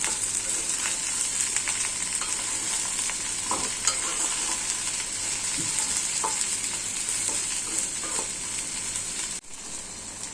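Plain white okra with salt stir-fried in a pan, a steady close sizzle with scattered scraping and stirring knocks throughout, no voices.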